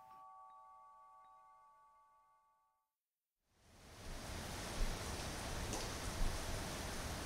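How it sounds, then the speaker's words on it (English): After a faint hum and a brief hush, steady rain drums on a tarp overhead, a dense even patter that continues without pause. "How the early evening rain drums as we settle cross-legged under a tarpaulin"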